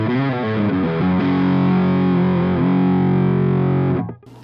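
Heavily distorted electric guitar through a Yuer Tube Dream distortion pedal playing a few quick chords, then a long sustained chord ringing loud and thick before cutting off abruptly near the end.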